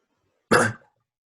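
A single short cough, close and fairly loud, bursting out once against near silence during an online physics class.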